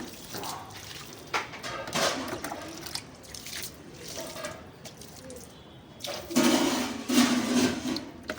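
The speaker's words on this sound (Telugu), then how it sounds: "మొత్తం మా అమ్మమ్మ నీళ్ళు పోస్తుంది ఇక్కడ." Water poured from a bucket onto garden plant soil, making soft, uneven splashes and gurgles in bursts that grow louder toward the end.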